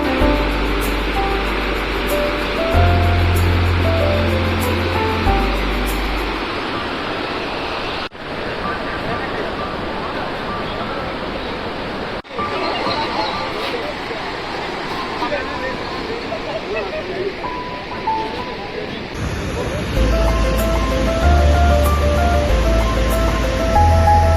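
The Chitrakot waterfall in India gives a steady, dense roar of falling water that fills the whole stretch, loud and continuous, with background music over it.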